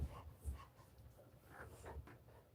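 Quick soft panting of a puppy close by, short rhythmic breaths repeating through a faint, quiet moment.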